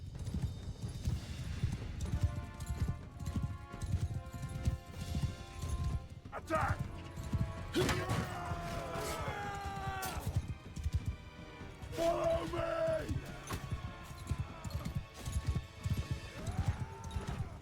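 Horses gallop in the Mount & Blade II Bannerlord video game, with steady loud hoofbeats throughout, occasional neighs and clashing battle sounds, and a voice talking over it.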